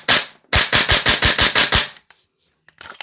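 A DE Noveske Ghetto Blaster MWS gas blowback airsoft rifle fires a loud close string of about nine sharp rapid shots, then stops abruptly as a double feed jams it, followed by faint clicks and handling.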